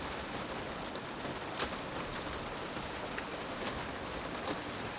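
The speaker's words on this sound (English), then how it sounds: "The rain keeps pouring heavily, but the thunder is over." Heavy rain pours steadily onto a boat on the Mediterranean in the evening, a dense, even hiss with occasional louder drop splatters, no thunder and no voices.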